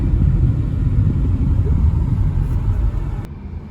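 A car engine at high RPM during catalytic converter testing gives a loud, steady, deep rumble that holds for several seconds with no breaks or talking.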